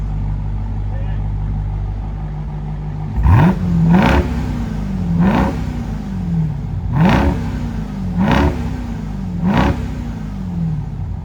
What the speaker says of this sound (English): Now we're gonna rev this one first.